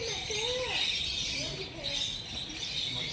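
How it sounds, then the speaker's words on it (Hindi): Loud bird calls, fitting a large parrot at a bird park in Gulab Bagh, Udaipur, sound close over constant high chirping from other birds, with some bright squawks rising and falling. "ये है तोते जो कितना बड़ा तोता है"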